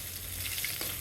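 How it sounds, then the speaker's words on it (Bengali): Pieces of catla fish fry in hot oil in a wok, making a continuous soft crackling sizzle throughout the short moment, with no voices. "মাছগুলো মোটামুটি ভালো করে ভেজে নিচ্ছি।"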